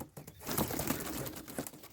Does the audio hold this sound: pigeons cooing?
yes